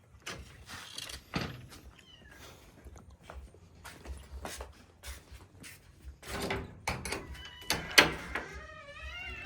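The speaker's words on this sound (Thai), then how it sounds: "เดี๋ยวจะไปเปิดประตูให้เบิ่ง" A house door is opened: a few knocks and thunks of the latch and panel, followed by rattling and movement nearby, with faint animal cries at the end.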